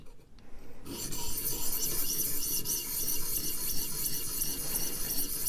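Steady rasping strokes of a Gavko Thresher knife edge being sharpened and reprofiled, a continuous gritty scrape heard up close after a brief quiet start, with no talking.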